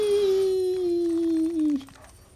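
A dog's long drawn-out howl in the Dark Souls 2 video game, one steady sustained tone that slowly falls and breaks off, heard alone and fairly loud.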